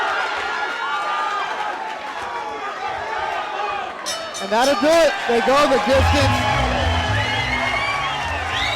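A boxing arena crowd erupts in loud cheering and whoops at the close of a hard-fought bout between Mario Hernandez and Luis Saavedra, swelling midway under a commentator's voice and staying dense to the end.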